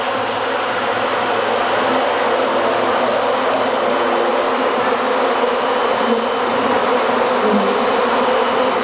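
A dense swarm of bees buzzes continuously and loudly around a man in Malaysia wearing them on his body, a steady unbroken drone with no pauses.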